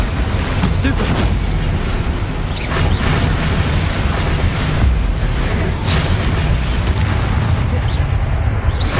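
Explosive Bombarda spell blasts from the Hogwarts Legacy video game form a loud, continuous wall of booming, crashing noise with a shouting voice over it.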